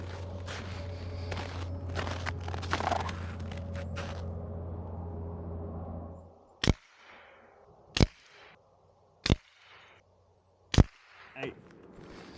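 An FX Mark 3 air rifle firing at a target 40 to 50 yards away, giving four sharp, evenly spaced cracks with brief tails, after a stretch of steady background hum and handling noise.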